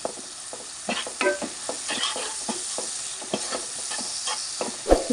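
Sliced onions sizzle steadily with salt in a hot pan for cluster beans curry, a continuous close hiss broken by repeated stirring scrapes at an uneven rhythm, with no talking.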